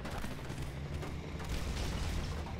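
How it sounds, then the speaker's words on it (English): In the Halo Online video game, gunfire strikes a lawnmower vehicle, producing a continuous rumbling barrage of low booms and impacts over less than three seconds, close and dense with no talk. "Who's shooting my lawnmower?"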